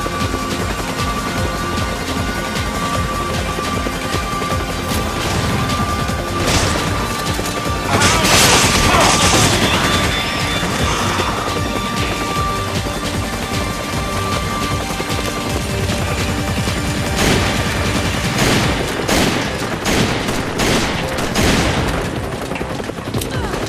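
Sustained gunfire in Resident Evil 5 crackles continuously, with a dense burst of heavy shots in the middle and scattered blasts later, loud and close throughout.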